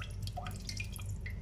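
Water drips and trickles while fish is washed and cleaned in a home kitchen, heard as small scattered splashes over a steady low hum.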